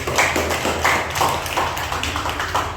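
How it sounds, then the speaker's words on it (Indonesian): Audience clapping at an Indonesian campus lecture on drug abuse prevention, a steady patter of many hands that stays fairly even and continuous, with no voices over it. "Oke, tepuk tangan dulu dong"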